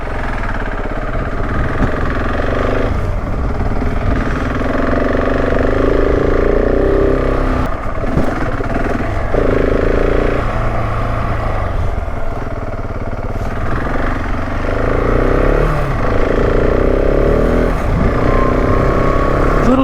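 KTM 690 Enduro R single-cylinder motorcycle riding up a driveway on a chilly morning, engine thrumming close and steady with repeated throttle blips and surges, no talk over it.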